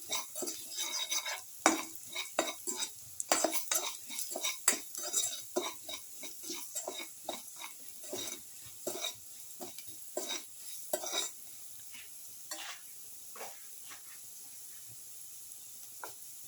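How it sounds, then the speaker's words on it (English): A spoon stirs salt into a winter melon cumin chicken curry, giving repeated close scrapes and clinks against the pot in an uneven rhythm over a faint sizzle, fading toward the end. "Salt and mix."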